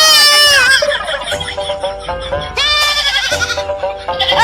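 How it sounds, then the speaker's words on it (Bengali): A goat bleats loudly and close, giving several long, wavering cries in quick succession with short gaps between them, and no talk over them. "আমার জাতের ছাগল তো কারণ যে ডাকছে"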